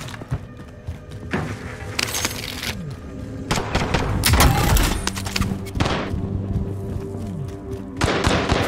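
Airstrike explosions and gunfire on Rebirth Island in Call of Duty Warzone: loud, dense bursts and heavy thumping booms come in waves, with a big low blast near the middle and more rattling impacts toward the end.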